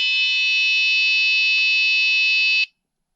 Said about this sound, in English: The low voltage buzzer gives alarm